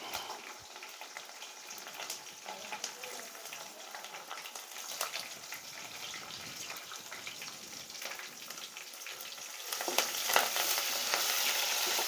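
Fresh curry leaves and onions fry in hot oil in a pan for mutton curry, crackling and sizzling steadily up close with scattered stirring scrapes, and the sizzle swells louder toward the end.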